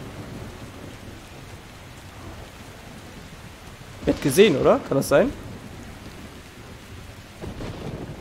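Thunderstorm with steady rain in the video game Metro Exodus, a soft constant hiss of rainfall in the background. Someone speaks German briefly in the middle over the rain.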